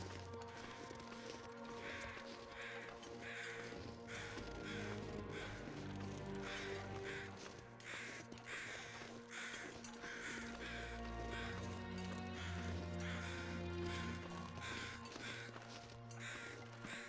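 Crows caw over and over around Ash Canyon in a Stalker game, a steady run of harsh calls repeating above a low ambient drone.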